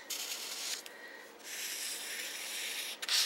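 A marker is rubbed back and forth over a paper bead strip, a soft close scratchy hiss in two longer passes with short breaks, then a brief final stroke.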